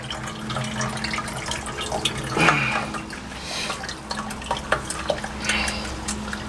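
Water from clay slurry drains through a cloth bag, giving a trickling, splashing flow with a brief louder gush partway through and scattered drips, close and clear.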